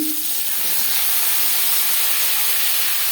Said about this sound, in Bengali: কড়াইতে আবারও তেল দিয়েছি এবার দিয়ে নেবো আলু